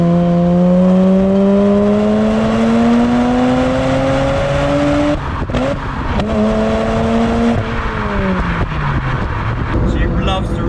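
A Mazda RX8 rotary engine revs hard on a track drive, rising steadily through a long climbing pitch, with brief breaks around gear changes before climbing again. It sounds loud and close, and someone talks over it.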